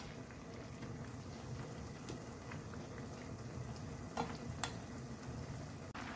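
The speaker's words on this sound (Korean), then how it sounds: "살짝 한번 이렇게 뒤집어서 한 5분 정도만 졸여주세요" Beef jangjorim made with round or eye-of-round, whole garlic cloves and shishito peppers, simmering in a pot with a steady, close bubbling and sizzling hiss that runs unbroken, plus a few faint clinks near the end.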